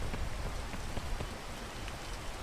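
Steady rain falls in a video game, a dense even patter of drops on surfaces with scattered sharper taps, continuous and fairly close, with no one talking over it.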